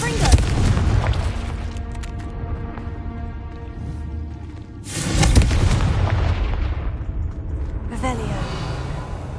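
A Confringo blasting spell in Hogwarts Legacy lands with a loud, broad boom about halfway through, followed by a softer burst near the end, over ringing ambient game tones and occasional speech.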